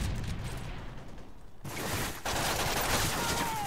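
Sustained gunfire in the video game Call of Duty: Modern Warfare 3, a dense, continuous fusillade of rapid shots that stays loud and steady for the whole stretch, with no talking over it.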